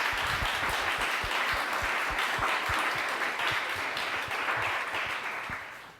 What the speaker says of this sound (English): another round of applause for Charles tonight